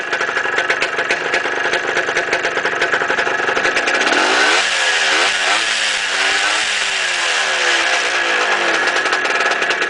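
A 1970 Suzuki TS250 motorcycle engine idles loudly and steadily nearby, its throbbing note shifting slightly partway through as the revs waver.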